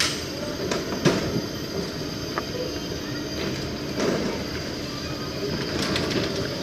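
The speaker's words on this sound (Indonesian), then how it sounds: "Itu kereta gantung" A continuous metallic rumbling hum of a cable car in motion on Sentosa Island, Singapore, with faint squeals and occasional clicks from the cable mechanism.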